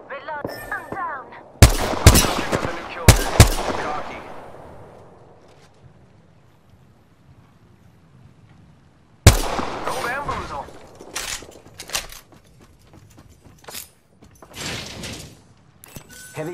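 Gunfire in the battle royale game Apex Legends cracks out in a few sharp close shots and bursts, each followed by a decaying tail, with game voice lines talking in between.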